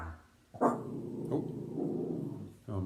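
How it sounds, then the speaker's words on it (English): A dog indoors gives a couple of close, sharp barks that trail into a low growling grumble. "my dog just got angry about something"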